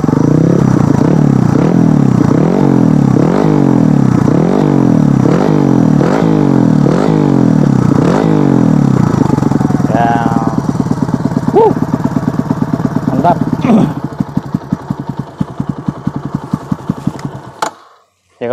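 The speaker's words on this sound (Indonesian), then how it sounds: "Ini motor kenceng banget sih suaranya." A Kawasaki KLX trail motorcycle with a bored-up engine revs hard in rhythmic, repeated bursts, then settles into a rough, fast idle before cutting off. It is loud and close.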